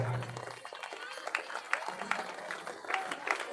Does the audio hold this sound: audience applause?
yes